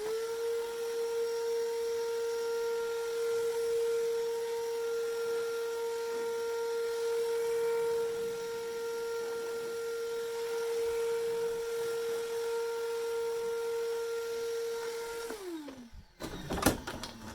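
A shop vac hooked up backwards blows dust off sanded plywood, making a steady whining roar with a strong tone that holds for about fifteen seconds before it winds down and stops, followed by a few knocks.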